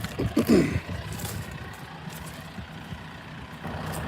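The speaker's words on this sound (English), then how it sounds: "So I'm gonna be on the tractor for a little while." Tractor engine idling on a worksite with a low, rough rumble, faint and steady beneath brief louder knocks and clatter at the start.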